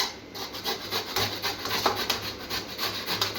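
Beetroot being grated by hand on a kitchen grater, a steady close-up scraping rub that repeats in quick strokes with no talking.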